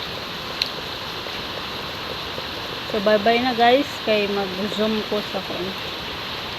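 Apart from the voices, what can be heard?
heavy rain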